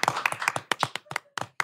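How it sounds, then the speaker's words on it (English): Sharp, close hand claps in a quick, slightly uneven burst of about nine, like a few people clapping briefly in a casual indoor chat. "Round of applause, please."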